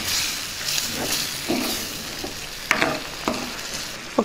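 Eggplant dry fish curry simmers with a soft steady sizzle as tamarind juice is stirred in, a spoon scraping and clinking against the pot every second or so, close and gentle.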